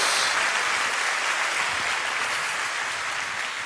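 A church congregation claps in praise to the Lord, a continuous, even wash of applause held at a steady level from start to finish.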